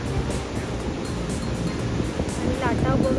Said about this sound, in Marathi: आणि लाटा बघून